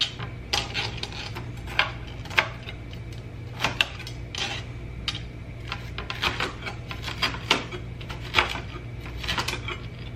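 Knife dicing vegetables on a cutting board at home, with irregular sharp chops and taps against the board, fairly quiet with occasional louder knocks.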